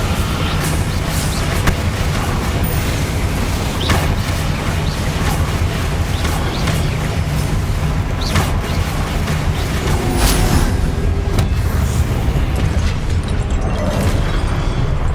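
Spell casting and explosions from Hogwarts Legacy on PS5, set in Rookwood Castle: a dense, continuous roar of magical blasts and booms with repeated sharp bursts and crashes, loud and close throughout.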